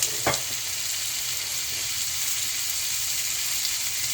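Onions fry in oil in a karahi with a steady, even sizzle and a short stirring clatter at the start, heard close and continuous with no speech.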